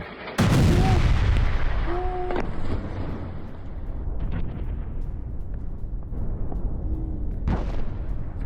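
Israeli bombardment of Beirut: a sudden heavy blast erupts and then settles into a sustained loud rumble with further thuds. The sound is broadband and carries through, with no speech heard over it.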